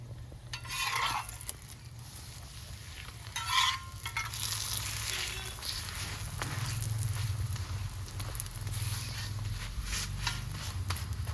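Paratha dough frying in a pan for Bengali-style chicken rolls, a steady close sizzle with occasional scraping and stirring of a utensil, no one talking.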